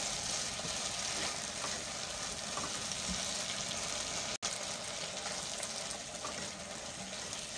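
Potatoes with fenugreek roast in a pan with a steady, soft sizzle and crackle, faint and continuous, broken once by a brief dropout, with no talking.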